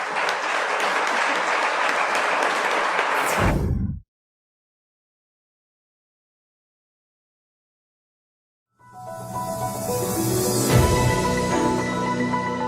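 Audience applause at a Mexican electricians' union forum, a dense broadband clatter of clapping that cuts off abruptly, falls silent for several seconds, then returns loud and sustained.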